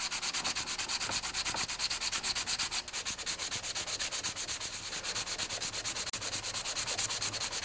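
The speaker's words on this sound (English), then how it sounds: "I've got a piece of 400 grit sandpaper on a nice flat surface," A vintage Stihl 075AV or 055AV carburetor is rubbed back and forth on 400 grit sandpaper laid on a flat surface, making a steady, close, loud rhythmic scraping rasp without pause.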